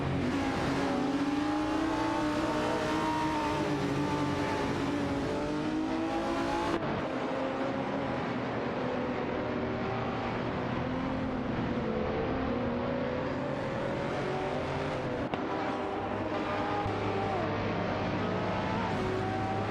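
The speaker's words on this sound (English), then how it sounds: "Cupra GT is holding off Androvac in the Lamborghini Gallardo GT3 as they fight for the 9th position" Lamborghini Gallardo GT3 race cars battling in a racing video game, continuous loud engine roar with rising and falling revs through gear shifts, several cars blending together without a break and with no talking.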